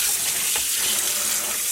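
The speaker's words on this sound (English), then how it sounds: "I am going to rinse this until I get the water mostly clear" Tap water runs into a sink while a spiral tie-dyed t-shirt is rinsed under it, a steady hissing rush with faint splashes and no break.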